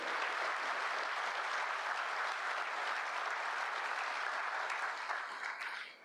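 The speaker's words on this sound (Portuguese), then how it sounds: "uma salva de palmas às polícias do DF, às forças de segurança do DF." A crowd at a Brazilian public-security event applauds the police, a loud, dense burst of clapping that stays even for several seconds before tapering off at the end.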